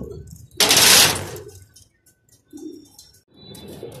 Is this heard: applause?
no